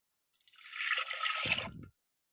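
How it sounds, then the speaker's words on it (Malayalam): Water is poured into a pressure cooker holding dal, a brief splashing pour of about a second and a half that ends in a fuller, deeper gush before stopping. "അതിനുശേഷം ഇതിലേക്ക് ആവശ്യത്തിനുള്ള വെള്ളം ഒഴിച്ചു കൊടുക്കാം"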